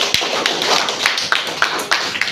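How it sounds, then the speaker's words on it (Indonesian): Students in a classroom clapping for their classmates' presentations, a loud, close, uneven patter of hand claps with a few sharper smacks over about two seconds. "Tepuk tangan untuk Ananda semua."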